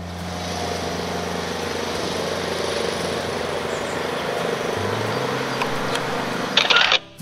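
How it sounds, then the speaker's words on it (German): A lawn mower drones steadily on the grounds of a garden estate near Coesfeld, a continuous motor hum with slight fluctuations over several seconds, ending in a brief clatter, no speech. "Das war ein Rasenmäher."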